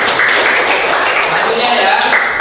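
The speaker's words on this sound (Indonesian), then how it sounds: "Tepuk tangan untuk kita semuanya" A classroom of students claps hands together, a brisk, dense patter of many hands filling the room, with some voices mixed in.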